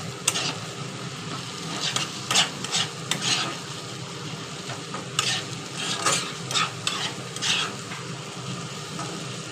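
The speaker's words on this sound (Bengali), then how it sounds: "আর একটু খানিক কষিয়ে নিলেই আমাদের আলুর দমের মশলা রেডি হয়ে যাবে।" Spiced alur dom masala with tomato puree frying in oil, stirred with a steady hiss and repeated scraping strokes of a spoon against the pan, close up and with no talking.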